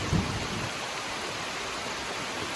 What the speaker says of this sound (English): It's pretty rainy out here.